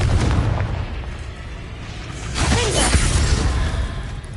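A Confringo fire spell from Hogwarts Legacy bursts as a loud, rumbling blast that swells midway through, trailed by crackling debris over a steady low ambient drone.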